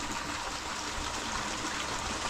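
River water flows through a gap and comes inside, making a steady broadband rushing and trickling that stays constant at moderate level, with no voices.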